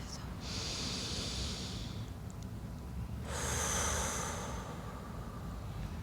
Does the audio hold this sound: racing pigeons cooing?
no